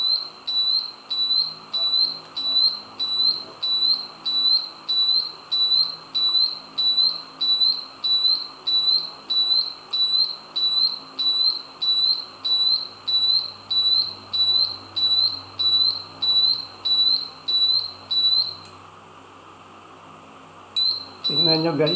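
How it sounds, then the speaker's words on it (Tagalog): A detector alarm on an infrared transmitter project sounds off with a rapid train of high, shrill whistling beeps in a steady regular rhythm, loud and close, stopping briefly near the end before resuming. "tumunog ang alarm mo"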